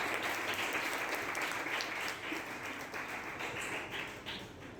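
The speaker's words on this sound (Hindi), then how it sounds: "जरा तालियां तो बजा के दिखाएं।" A crowd of trainee catechism teachers claps together at a training session, a dense, steady wash of applause that holds throughout and eases slightly toward the end, with no voices on top.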